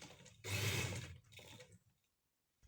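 A sewing machine stitching lace onto a shirt hem runs in two short bursts, a loud whirring run followed by a briefer one, then stops into near silence.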